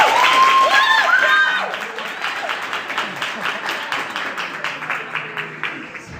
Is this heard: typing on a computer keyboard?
no